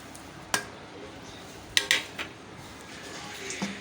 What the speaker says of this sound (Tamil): நல்லா மிக்ஸ் பண்ணி விட்டுக்கோங்க எல்லாமே நல்லா சேர்கிற மாதிரி கலந்துக்கலாம்